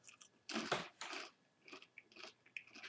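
Close, crunchy chewing of a dry snack eaten together with peanuts, with irregular bursts of biting and mastication separated by brief quieter gaps.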